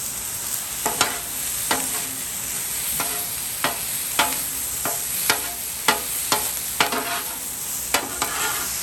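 Thattukada-style hibachi fried rice with soy sauce stir-fries in a pan, with a steady loud sizzle punctuated by a regular series of sharp metal spatula strikes and scrapes, roughly one or two each second.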